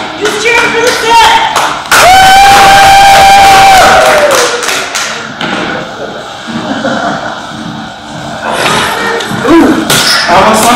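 Crowd at a staged blade-combat match at a fan convention, cheering, clapping and shouting in loud surges, with thuds and voices mixed in.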